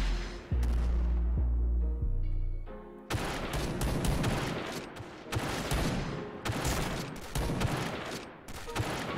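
AS-50 sniper rifle fired in the Point Blank shooting video game: a tonal electronic lead-in gives way to repeated loud, booming shot bursts in quick succession.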